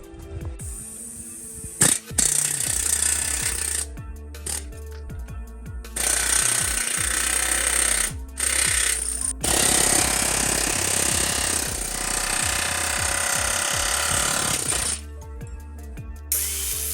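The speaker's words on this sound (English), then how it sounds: "I have an air chisel, and you'll just knock them out of the way." An air chisel hammers out spot-welded parts on a Toyota Tundra, loud rapid metallic rattling bursts that start and stop repeatedly, close up and without speech.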